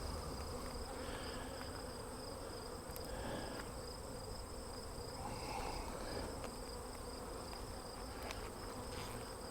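Honey bees buzzing steadily inside an open hive without a queen excluder, a dense continuous hum close by, fairly quiet, with no voices over it.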